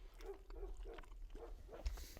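A dog barks at squirrels in a series of short, muffled woofs spaced about half a second apart, faint and somewhat distant, with a brief thump near the end.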